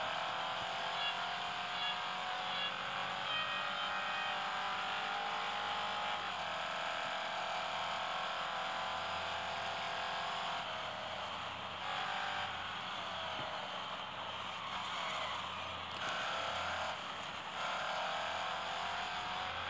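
A race car in a Real Racing 3 time trial, set to the lowest ride height, holds a steady engine whine that climbs and falls gently with shifts and throttle changes, continuous and fairly quiet with no talk.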